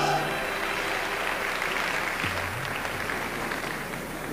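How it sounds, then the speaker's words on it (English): An audience at a beauty pageant's preliminary competition applauds steadily, a continuous wash of clapping at an even level, with a faint voice heard briefly partway through. "Ladies and gentlemen, a nice round of applause for these incredible,"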